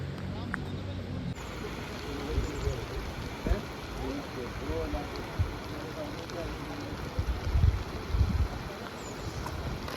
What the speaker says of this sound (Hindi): बारिश भी नहीं रुक रही है